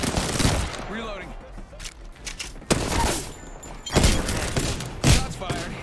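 Bursts of rapid gunfire from an Apex Legends match crack in quick clusters, loud and close, mixed with game voice lines and thuds.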